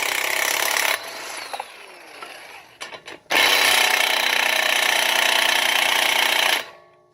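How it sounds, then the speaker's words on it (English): A car jack is raised under a 2018 Toyota Tundra; after scattered clicks and rattles, a loud, steady mechanical whine runs for several seconds before cutting off sharply, close to the source. "we'll go ahead and get our jack kind of going up"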